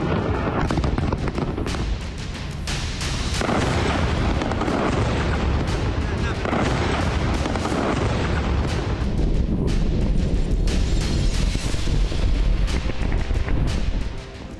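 Explosions from Israeli strikes in Lebanon, a dense, continuous roar of heavy blasts and rumbling booms lasting many seconds, loud and sustained with overlapping impacts.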